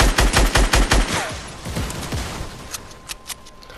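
Automatic gunfire in the Fortnite video game rattles in quick repeated bursts, loud at the start and then easing into scattered shots and mechanical clatter, with no voices.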